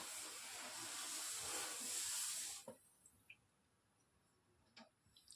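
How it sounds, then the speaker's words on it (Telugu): Milk heating in a pot for double ka meetha gives a loud, steady hiss of steam and bubbling that cuts off abruptly midway, leaving near silence broken by a few faint clicks and taps. "పాలు మరగడం స్టార్ట్ అయ్యాయండి"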